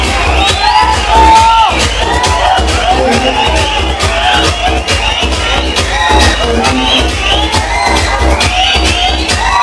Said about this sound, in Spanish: Un aplauso de los hombres, grito, escándalo